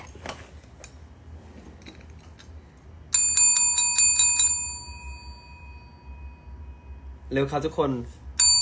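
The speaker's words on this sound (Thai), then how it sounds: "กระดิ่งยังอยู่ไหม" A loud metallic bell rings repeatedly for over a second, with sustained bright tones, mixed with voices talking during a live stream.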